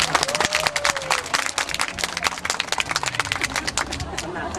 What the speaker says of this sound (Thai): ขอเสียงปรบมือเป็นกำลังใจให้หน่อยค่ะ